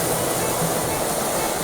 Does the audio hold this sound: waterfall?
yes